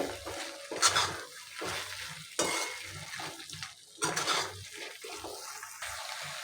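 Fried paneer being stirred into masala in a pan for matar paneer, with a spoon scraping and clinking against the pan in short bursts over a faint sizzle.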